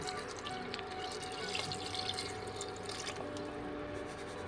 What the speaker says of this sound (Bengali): এবার আমি হাফ লিটার মতন জল দিয়ে দেবো